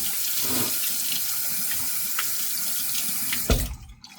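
A bathroom tap runs steadily while someone rinses a face at the sink, a continuous splashing hiss with a sharper splash near the end before the flow cuts off abruptly.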